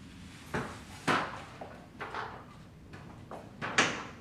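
Bifold closet door being fitted into its track, with a series of separate wooden knocks, bumps and sliding clunks spread irregularly over a few seconds, fairly close and moderately quiet.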